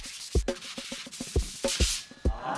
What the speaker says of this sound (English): We're gonna start with dry sanding with like 180.